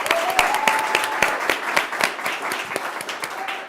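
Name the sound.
audience applause for speaker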